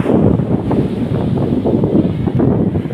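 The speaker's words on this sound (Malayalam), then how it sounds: "കാറ്റ് കൊള്ളാം" Strong sea wind buffeting the microphone on Alappuzha beach, a loud, gusting roar with low rumbling pulses and a constant breathy wash, no voices present.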